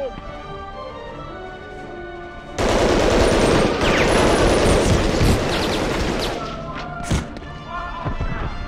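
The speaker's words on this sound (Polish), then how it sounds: "No już słyszę strzały." Rapid bursts of gunfire in the PS1 game Medal of Honor: Underground erupt suddenly after quiet background music, a dense continuous volley with heavy thuds, then tapering off.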